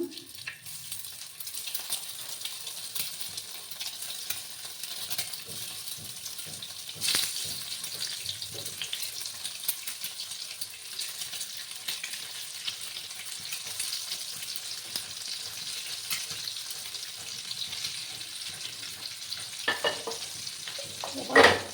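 Eggs frying in hot oil with a pinch of turmeric in a pan over low gas, a steady soft sizzle and crackle running throughout, with occasional stirring clinks and a louder scrape near the end.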